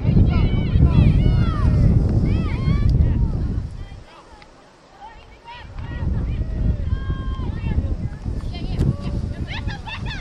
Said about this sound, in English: Wind again picking up. It's been with us throughout the whole game. Sunny skies, but very windy.